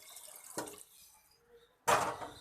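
Warm water is poured into a pressure cooker holding black chickpeas, heard as two short splashing bursts separated by a quiet gap with faint trickling, close up and without speech.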